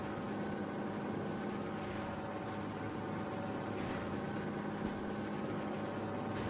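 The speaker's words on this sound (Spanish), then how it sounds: "Vieron ahí como le puse la turbina ahí, por eso suena así." A steady, low engine drone with a faint turbo whine on top runs throughout, a heavy truck cruising in the video game Grand Truck Simulator 2, with no speech.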